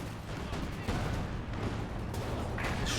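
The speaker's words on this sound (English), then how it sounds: "Another Katyusha barrage does not take out any weapons." A Katyusha rocket barrage in Company of Heroes 2 thunders as a dense, continuous roll of blasts and rumbling impacts, with a commentator talking over the din throughout.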